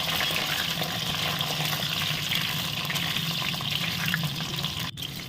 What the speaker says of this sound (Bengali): এবার আমি বেগুনগুলো নেড়ে নিচ্ছি